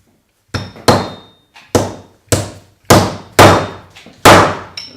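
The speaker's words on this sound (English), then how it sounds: "Just hammer the seal in there." Seven sharp hammer blows drive a fork seal into a Kawasaki ZRX 1100 fork, each a loud, close metallic strike that rings briefly and then fades, landing at a steady, slightly uneven pace.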